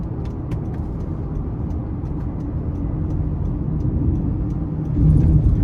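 A 2023 Honda Pilot V6 with all-wheel drive accelerates in sport mode, a steady low engine drone and road rumble heard from inside the cabin that swells louder near the end, with no talking.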